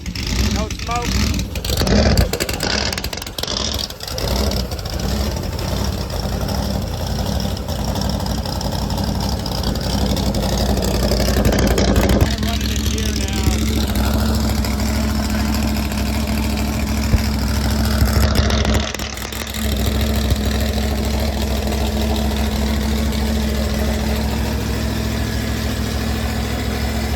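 A car engine idles and runs steadily throughout, a continuous low rumble with a shift in tone partway through and people talking over it.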